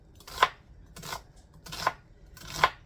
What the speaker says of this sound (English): let me finish chopping up this onions